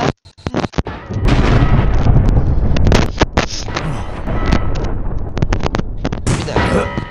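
A bomb goes off in the mobile game Ninja Arashi: a sharp burst of hits opens into a loud, booming roar with clanging impacts and crackle, then it settles into a lower rumble broken by more hits.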